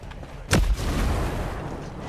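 Tank cannon boom in the video game Ghost Recon Breakpoint: one loud, sharp blast that rolls into a low, rumbling tail, with continuous ambient noise underneath.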